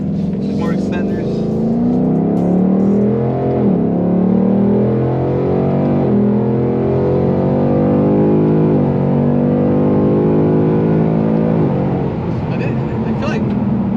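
A 10-speed 2021 Ford Mustang GT with the 5.0 V8 accelerates hard in fourth gear, heard from inside as a loud, steadily rising engine roar with several brief dips at the shifts and no talk over it.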